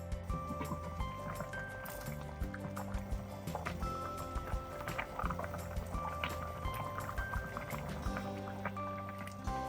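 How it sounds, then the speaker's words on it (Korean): Doenjang soup with ugeoji boiling hard in a pot, a dense busy bubbling and popping that runs continuously at close range with faint clinks, no voices. "이렇게 팔팔 끓으면요 5분 정도 더 끓여줄게요"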